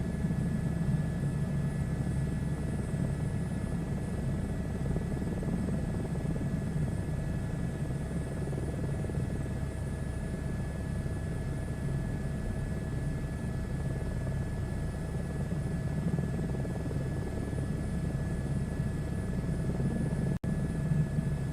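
Steady, continuous rotor and turbine drone of a search-and-rescue helicopter in Microsoft Flight Simulator, heard from inside the cabin with no talking and an even, unchanging level throughout.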